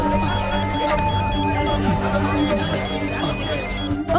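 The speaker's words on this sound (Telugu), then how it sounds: "అబ్బా ఫోన్ ఎత్తున్నా." A phone rings in a Telugu film scene, its loud, continuous melodic ringtone repeating throughout over a dense background.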